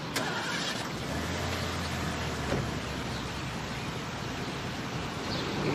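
A car engine starts and settles into a low steady idle beneath broadband noise, with a brief click near the start.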